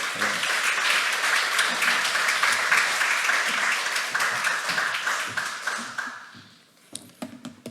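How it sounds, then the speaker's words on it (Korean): A church congregation at a Sunday service applauds to welcome a guest preacher, with dense, steady clapping that thins out and dies away near the end, leaving a few scattered claps. "우리 박수로 좀 환영하도록 하겠습니다"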